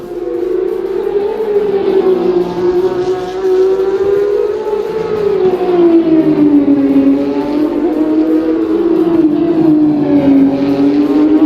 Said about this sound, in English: so Christian, cars are really loud over on